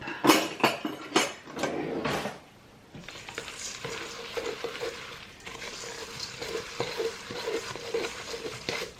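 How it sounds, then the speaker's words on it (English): A spoon stirs batter with baking powder in a bowl, scraping and knocking against the sides in a brisk run of strokes that settles into a softer, steady mixing. "We will mix this up."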